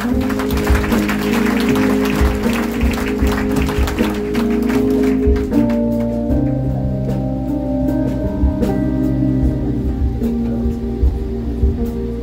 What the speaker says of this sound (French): Est-ce qu'elle va mériter notre applaudissement?